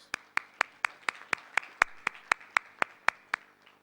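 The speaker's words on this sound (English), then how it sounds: "please give them a big round of applause" At a Lions Club poetry evening in Bahrain, steady rhythmic clapping sounds up close: about fourteen sharp, evenly spaced claps in a regular beat that trails off at the end, with a faint hum beneath.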